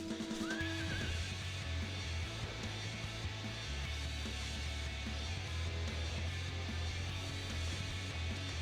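A horse mount in the Final Fantasy XIV video game gives a whinnying neigh near the start, over a steady bed of game music and ambience.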